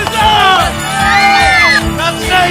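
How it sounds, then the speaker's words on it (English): A home hockey crowd in Dallas cheers for the Stars, loud shouts and whoops rising together in a frenzied roar, with a commentator's voice over the noise. "This crowd is unbelievable."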